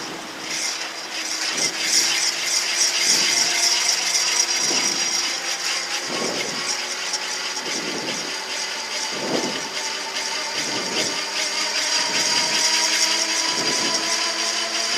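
A gyroplane's pre-rotator engages during a solo flight, giving a steady mechanical whine and hum with a rhythmic thumping pulse roughly every second as the rotor is spun up, loud and close throughout.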